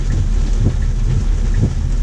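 Steady rain hisses continuously over a heavy low rumble, heard from inside a Tesla Model Y waiting in a queue, with no talking.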